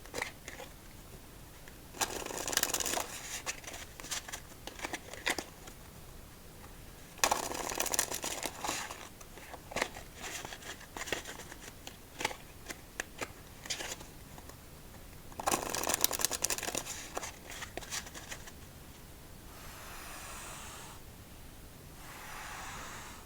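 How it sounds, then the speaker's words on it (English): Playing cards being shuffled in several crisp riffling bursts, each a few seconds long, separated by quieter pauses with soft handling noise. "after 3 more shuffles"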